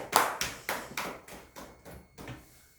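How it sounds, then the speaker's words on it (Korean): In a church service, the congregation claps for a member in a slow, even run of about eight distinct claps that soften toward the end, faint and fairly distant. "우리 앞으로 건강하게 신앙생활 잘 하시라고 박수 한번 쳐드리겠습니다"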